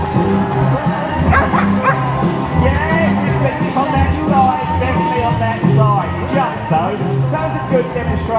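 Several dogs yip and bark in short bursts during a food-control race in a crowded arena at Crufts, heard steadily across the whole stretch under crowd noise and a voice talking.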